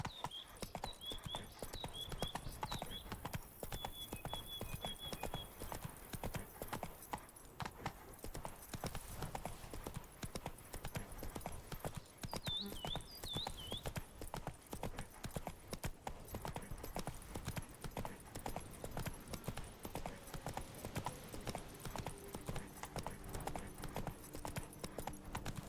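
Roach, the horse from The Witcher 3: Wild Hunt, gallops with steady, continuous hoofbeats that run under the game's ambient sound and music for the whole stretch, with occasional brief high calls above.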